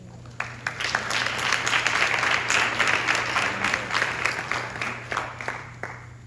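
Steady audience applause for graduating students at a school graduation ceremony, with distinct claps standing out over a dense crowd and a low hum underneath.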